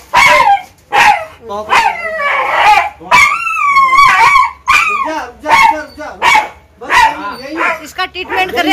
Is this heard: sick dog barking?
yes